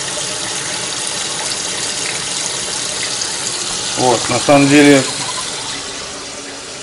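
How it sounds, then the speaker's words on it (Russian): Water rushes steadily through a chiller hose on a homebrew RIMS brewing rig, a constant close hiss that swells briefly as someone speaks a few words over it. "Попробую добавить мощность воды."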